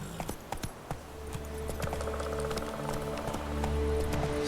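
Roach the horse galloping in The Witcher 3, hooves clip-clopping in a quick rhythm that builds into a steady run, with game ambience underneath.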